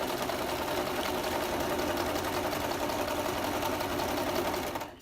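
A sewing machine stitches pockets onto a handmade journal, a steady close whirring hum with rapid needle rattle that runs continuously, then stops abruptly at the end.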